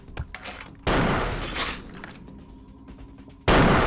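Gunfire during a sniper fight in the video game Vampire the Masquerade Bloodlines, loud close bursts of shots with a sharp blast near the start, another heavy burst at about one second and a final loud burst at the end.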